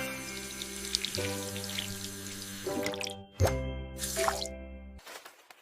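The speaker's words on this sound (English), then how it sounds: "I wash my hands." Hands being washed under a running tap at a sink, a steady close water stream with splashes and plops, briefly interrupted and resumed, then cut off near the end.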